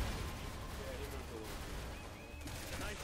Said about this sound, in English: Nice shooting, Piers.